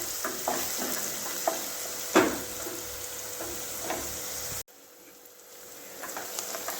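Onions frying in a pan for kathiyavadi Ora, a steady sizzle with scraping stir strokes and a sharp clatter near the middle, then the sizzle abruptly drops to a quieter hiss.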